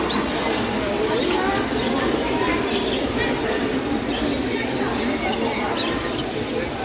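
Gouldian and society finches at an indoor bird show give a few brief, faint, high chirps over a constant murmur of crowd chatter and voices.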